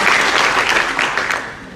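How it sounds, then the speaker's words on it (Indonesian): Steady audience applause at a public event in Denpasar, Bali, a dense, even wash of many hands clapping throughout, loud and close, with no talk over it. "Tepuk tangan untuk Denpasar."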